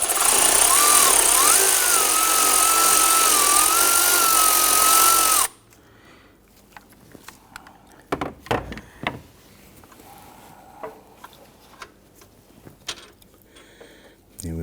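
Power tool whines loud and steady while backing out the alternator bolt on a 2011-2015 Kia Sorento 2.4L four-cylinder, then stops abruptly, leaving faint metallic clanks and handling noises.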